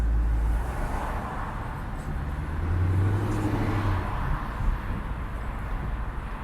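Ford Mustang GT S550 with a 5.0 V8 and Corsa Xtreme catback exhaust, a loud, steady deep rumble running throughout with a slight swell midway, close by and with no talk.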